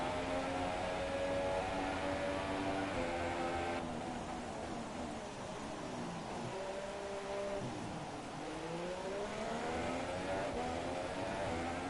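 Formula 1 race car engine in the F1 2017 video game, revving high with rising and falling pitch as it shifts gears, and a steady, moderately loud drone throughout.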